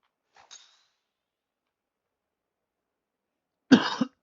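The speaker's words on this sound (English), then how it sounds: "I've got a bit of a cough, so apologies for that." One person gives a single harsh cough, near and alone after a long silence and a faint earlier sound.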